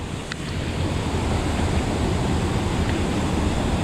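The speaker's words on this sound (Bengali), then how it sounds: "নদীটা বড় বড় পাথরের সাথে নেমে এসছে" A monsoon river pours down over big slippery rocks near Kalimpong, a dense, steady roar of rushing water filling the scene with no voices.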